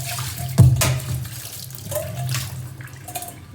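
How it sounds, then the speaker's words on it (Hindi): Tap water splashes into a vessel in a home kitchen, opening with a sharp gush and then a steady running stream close by. "मैं इसमें डाल लेती हूँ मैं पानी"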